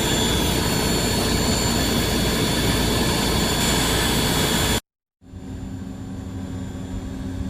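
Vertical turbine pumps running inside a wastewater plant pump building give a steady, loud mechanical roar and hum, broken by a brief cut to silence, then continue as a quieter steady drone.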